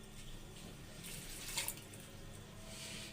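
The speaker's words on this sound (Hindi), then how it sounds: "1 गिलास पानी का शामिल करेंगे इसको गलाने के लिए।" A glass of water is poured into a cooking pot while making gajrela kheer, giving a faint, brief splashing pour midway through an otherwise quiet kitchen.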